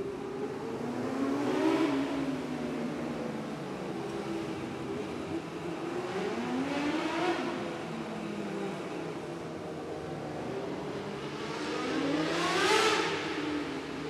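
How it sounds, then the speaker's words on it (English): Winged outlaw sprint cars race a heat on a dirt track at the Midwest Winter Nationals, their engines roaring past in three rising and falling sweeps from a distance, without voices. "Car just snaps around on him in turn number 2."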